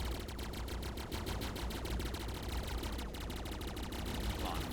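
Rapid, evenly spaced automatic gunfire in the video game Stellar Insurgency, a continuous rattling stream of shots over steady background game noise.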